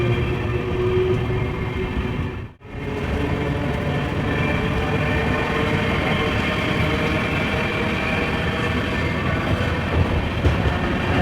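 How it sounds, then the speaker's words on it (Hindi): The Ganga Sutlej Express rolling slowly through Rosa Junction, heard as a steady broadband rumble and rattle of the moving train that persists throughout, with one brief drop in sound partway in and no speech. "तो फिलहाल अपनी ट्रेन स्लोली स्किप कर रही है भाई रोजा जंक्शन।"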